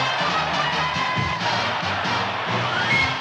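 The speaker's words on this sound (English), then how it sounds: "The sellout crowd rose as one to sound the alarm." A large stadium crowd at a sellout American football game roars and cheers steadily, a dense wash of voices filling the space without a break.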